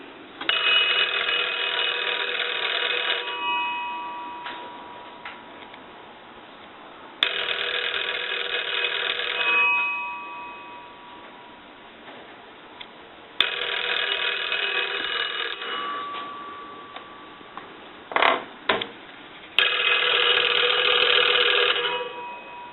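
The bell of a 1901-patent Kellogg wooden crank wall telephone rings in four long, loud bursts separated by short pauses, with a few brief clatters in between.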